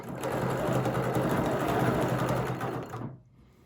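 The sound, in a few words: sewing machine stitching a quilt with quilting rulers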